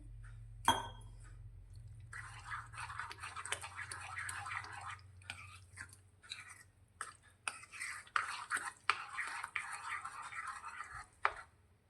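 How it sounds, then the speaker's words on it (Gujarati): A spoon clinks and scrapes around a bowl as green peas dhokla batter is mixed with water, irregular soft tapping and swishing, close and quiet, after a brief knock. "તેની ઉપર થોડું પાણી રેડી અને સારી રીતે મિક્સ કરી લઈશું"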